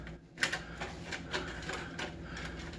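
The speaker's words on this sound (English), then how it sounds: "now I can come in with my screwdriver" Screwdriver tightening screws into a front fan of an AeroCool Cylon RGB mid-tower PC case, giving faint repeated clicks and scraping taps at an uneven pace, close and quiet with a low hum beneath.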